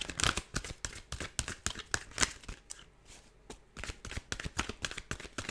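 Tarot cards shuffled by hand during a full moon reading, heard as close, rapid riffling bursts that pause briefly midway and then resume, with no talking.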